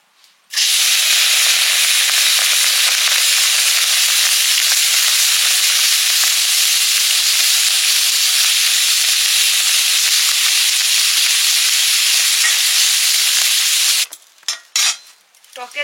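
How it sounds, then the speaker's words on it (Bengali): Puti fish coated in salt, turmeric and chilli powder fry lightly in mustard oil with a loud, constant sizzle, which stops and gives way to a few clattering pan sounds at the end. "টকের জন্য পুঁটি মাছ একদম হালকা করে ভেজে নিয়েছি।"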